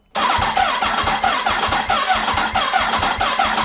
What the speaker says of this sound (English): We have run the starter motor for a while now.